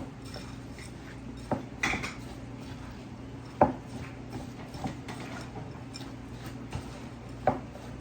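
Crushed pretzels being mixed in a bowl for a patriotic dessert salad, heard as quiet scraping and several sharp clinks of a utensil against the bowl at uneven intervals, with no talking.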